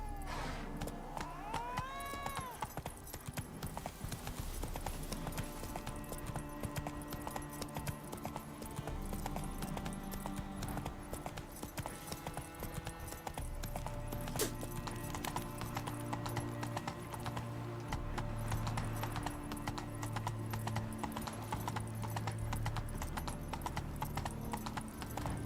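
Hoofbeats of the horse Roach in The Witcher 3, a steady clip-clop of hooves under game music and ambience, with a brief whinny near the start.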